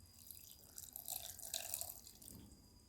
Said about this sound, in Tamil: கொஞ்சோண்டு தண்ணி சேர்த்துக்கலாங்க.